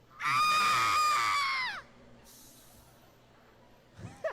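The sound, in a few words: voice actor performing a character's yell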